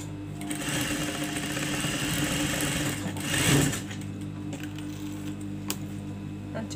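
Sewing machine stitching an abaya, running steadily with a dense mechanical whir throughout, a brief louder surge midway, close and alone with no talking.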